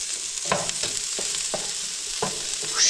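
Egg roll filling sizzling steadily in a pan with sesame oil, stirred with repeated soft scraping strokes over a constant loud frying hiss; no talking.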